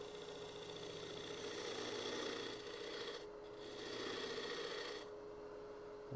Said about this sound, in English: Drop the handle so I can get a nice entry cut slicing in.